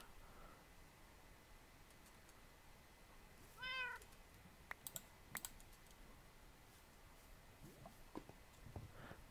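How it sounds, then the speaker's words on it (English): A Minecraft cat gives a single short meow amid quiet computer keyboard typing and mouse clicks, faint and close in a near-silent room. "How did I get a cat?"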